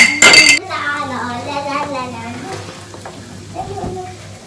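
Garlic dropped into a hot pan while making gözleme: a loud initial sizzle burst, then steady frying crackle, with a voice speaking over it.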